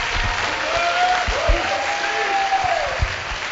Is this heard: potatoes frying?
no